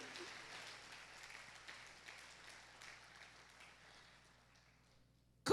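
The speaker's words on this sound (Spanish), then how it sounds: "Dale fuerte ese aplauso al poderoso Rey" A church congregation applauding together, a broad, continuous patter of clapping at moderate distance that slowly fades away before a brief sharp knock at the end.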